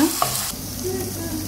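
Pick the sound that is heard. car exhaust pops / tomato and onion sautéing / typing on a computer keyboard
tomato and onion sautéing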